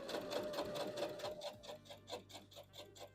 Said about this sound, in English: It's probably a lot easier to sew over the all metal pins with the flat heads on them.